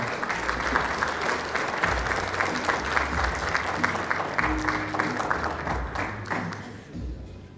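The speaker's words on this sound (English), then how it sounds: "Can I please call on Congresswoman Tammy Duckworth to our stage and give her applause" Sustained audience applause at a business conference and annual gala, dense steady clapping from a large crowd throughout, tapering slightly at the end.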